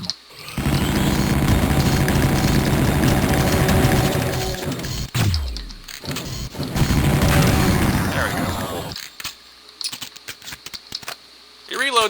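Uzi submachine gun firing in the Doom mod Immoral Conduct, loud sustained bursts of rapid game gunfire with a brief pause midway, then sporadic shots and quieter gaps toward the end.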